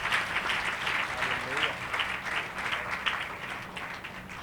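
A church congregation claps together to glorify the Lord during a Palm Sunday sermon, a dense, steady wash of hand claps with a speaking voice faintly mixed in.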